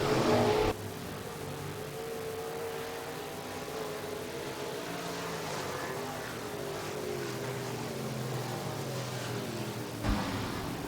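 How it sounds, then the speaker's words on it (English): Several USRA stock cars racing at a dirt speedway during a heat race, engines droning steadily at a distance in a continuous roar with no talk over it. "Third and final heat race for the Precision Auto Body USRA Stock Cars"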